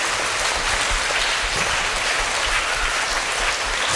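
A church congregation claps together during a healing adoration worship service. The applause is loud, dense and continuous, with no voices standing out.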